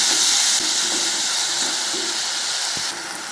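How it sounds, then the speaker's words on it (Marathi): Finely chopped medium tomatoes hit a pan of browned onions for a pea and potato curry, giving a steady, loud, hissing sizzle that runs unbroken throughout with no voices. "टोमॅटो ऍड करूया बारीक चिरलेला।"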